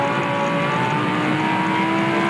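Porsche race car in the Blancpain Sprint Series at Zolder, engine revving steadily and loudly as it climbs through the gears, one continuous close drone.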